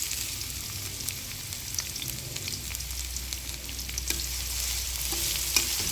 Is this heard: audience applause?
no